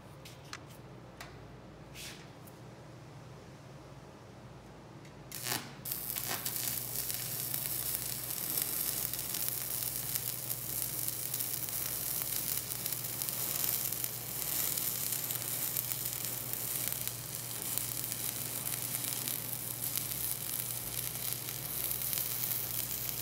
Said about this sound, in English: then I was ready to run a weld on there